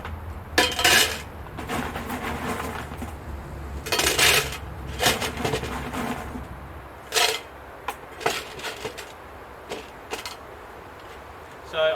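Drainage gravel poured and scraped into a recycled planter pot, giving clattering, clinking bursts that come in several uneven rattles, with a person talking in between.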